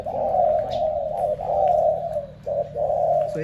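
A small trained bird repeats a steady, buzzy cooing call in several close phrases, loud and alone with no talking.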